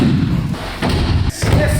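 A person thrown over the front of the body in a fighting demonstration lands on the ground with a loud, close thud, followed by further heavy impacts in quick succession.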